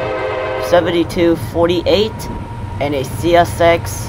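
An eastbound CSX intermodal freight train rolls by on the Willard subdivision with a steady low rumble and tonal drone, while someone talks close by over it.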